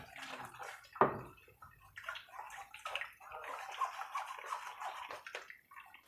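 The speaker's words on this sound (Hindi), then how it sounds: "थोड़ा सा पानी ऐड करेंगे।" Water poured into falsa sharbat, a soft, fairly quiet stream of liquid splashing and gurgling into the drink for several seconds, close by with no talking.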